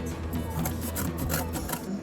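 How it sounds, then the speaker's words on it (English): A steady, scratchy mechanical whir with repeated buzzing pulses, a small drill boring holes through cardboard, close by and continuous. "So I have to drill some more holes."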